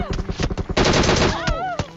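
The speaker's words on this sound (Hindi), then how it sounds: "अब देखो पूरी टीम को कैसे भरते हैं" Rapid bursts of automatic gunfire in a video game, close and loud, in quick repeated volleys over about two seconds with a brief voice-like tone near the end.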